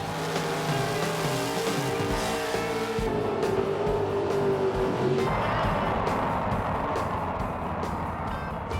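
Dragster with several modifications running on gasoline at drag racing eliminations, a loud engine roar that climbs in pitch, then a rushing burst as the car tears past, fairly distant.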